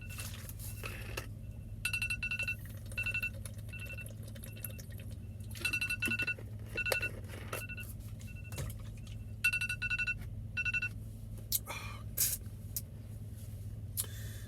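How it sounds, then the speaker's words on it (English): Electronic alarm beeping as a reminder to drink water, short bursts of repeated tones recurring every second or so over a quiet background hum, faint and without talk. "the thing about setting an alarm for your water is it reminds you"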